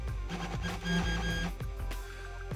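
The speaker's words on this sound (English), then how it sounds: "I'm now going to move Z axis." Sunhokey Prusa i3 3D printer moving its Z axis upward, a faint whirring stepper motor drone with soft clicks and brief pitch shifts, close by and without talk.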